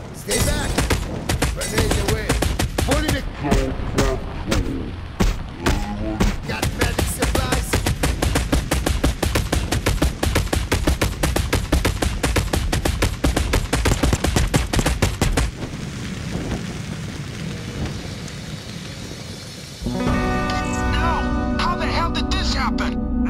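Rapid gunfire and explosions crackle through a PAYDAY 2 safe house fight, dense bursts of automatic shots pounding for long stretches before a brief lull, then a different burst of game noise returns.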